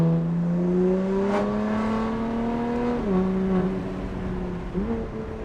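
A BMW M3/M4 F8x with a titanium equal-length exhaust and 200-cell downpipes gives a loud, high-pitched, raspy engine note that climbs steadily, then drops sharply at two gear shifts before rising again.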